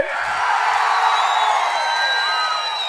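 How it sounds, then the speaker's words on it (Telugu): A large outdoor crowd at a TDP Prajagalam political rally in Podili, addressed by party chief Chandrababu Naidu: a loud, sustained roar of clapping and cheering with shrill whistles cutting through. "గట్టిగా చప్పట్లు కూడా చెప్పండి"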